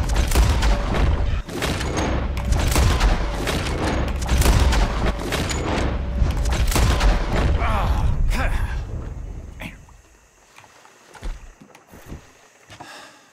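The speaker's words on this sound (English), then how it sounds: "As soon as you see them, start shooting." Rapid gunfire rings out in a shooting contest in Red Dead Redemption 2, a dense run of loud close shots for about nine seconds, then a few scattered sharp reports and quieter clicks as it fades.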